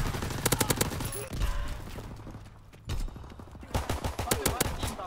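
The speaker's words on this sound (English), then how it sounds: "Strafing run inbound." Strafing-run gunfire from Call of Duty WWII, dense rapid bursts at the start and end of the clip, with a loud impact in the middle and game voice callouts mixed in.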